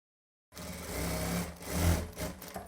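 After a moment of silence, a sewing machine starts up and whirs steadily while stitching a lungi hem, a close, even mechanical hum with a slight swell near the end, no speech.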